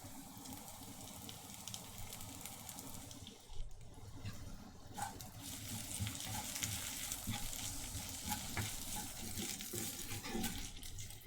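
Garlic and ginger fry quietly in a pan for a chole and jalfrezi style meatball dish, giving a soft, continuous sizzle and crackle with a brief stirring shuffle partway through.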